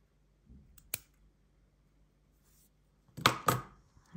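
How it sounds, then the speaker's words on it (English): Scissors cut crochet yarn while a lanyard is being finished: one crisp snip, then after a pause a pair of quick, close cuts, with near silence between them. "And now I can cut the yarn."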